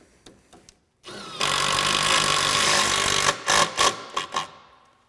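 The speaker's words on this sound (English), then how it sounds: "set the center self-tapping screw. And then I'll go back and do the two outside screws." A power driver sets a self-tapping screw into a Polaris skid plate with a loud, close, steady whir of about two seconds, followed by several short driver bursts and clicks, with no talk.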